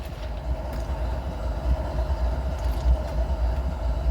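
ES40DC locomotive on switching duty moving with its train: a steady low rumble and heavy throbbing from nearby rolling stock, continuous with no voices.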